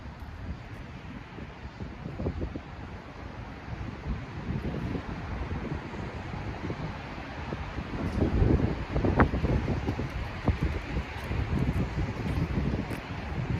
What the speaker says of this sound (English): I'm focused on this wind